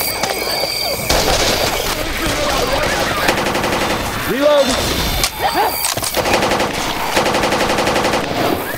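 Dense, loud automatic gunfire fills a Left 4 Dead 2 firefight, continuous bursts and rapid shots layered with game effects and intermittent voices.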